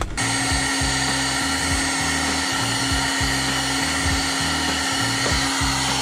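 A heat gun blows a steady loud whine and airy roar, running continuously nearby while shrinking wire solder connectors, with a pulsing low hum beneath and no talk.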